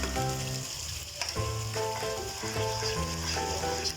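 Semolina for suji halwa cooks in a pan with desi ghee, sizzling steadily and close up beneath a tonal melodic background tune, with no speech.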